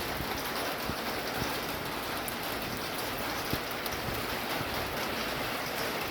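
Steady rain falls outdoors onto open ground freshly spread with seed, a dense, even patter of drops that holds constant throughout with no voices.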